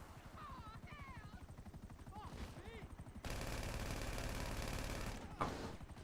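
Video game helicopter with a steady rotor drone mixed with rapid machine-gun fire, growing loud and dense in the second half, while a player's voice talks over the first few seconds.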